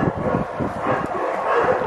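Dogs and puppies at an animal shelter bark and yip together in a steady, overlapping chorus that stays fairly loud throughout, with no voices.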